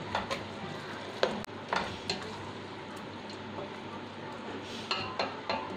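Chicken goes into a pan of oil with half-cooked koorkka and is stirred, giving a low sizzle beneath scattered metallic scrapes and clinks of a spoon against the pan.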